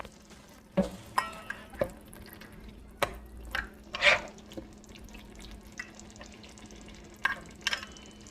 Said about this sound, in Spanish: sofreír la mixtura por otros 5 minutos